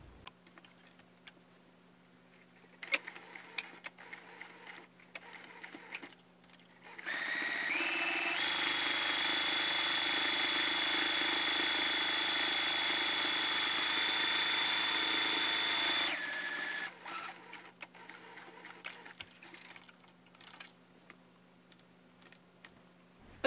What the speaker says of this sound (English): I'm just gonna go ahead and seam one straight line all the way down.